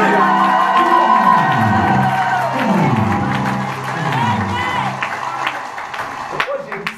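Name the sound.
church congregation cheering and acclaiming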